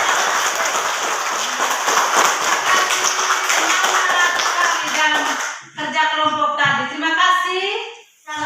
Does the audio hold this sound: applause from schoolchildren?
yes